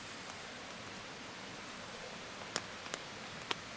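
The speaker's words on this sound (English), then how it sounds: "It is absolutely thrashing it down." Heavy rain pours down steadily in a forest campsite, a dense even wash with several louder close drops striking near the end.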